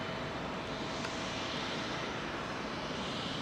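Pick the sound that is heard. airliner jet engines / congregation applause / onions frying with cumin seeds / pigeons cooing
airliner jet engines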